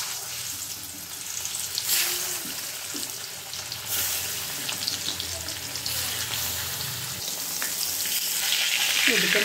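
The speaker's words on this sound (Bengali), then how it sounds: "এদিকে মাছটা ভেজে নিচ্ছি, মাছটা ভাজা হোক।" Salted, turmeric-rubbed fish fries in hot oil in a pan, a steady loud crackling sizzle that runs throughout with occasional spattering bursts.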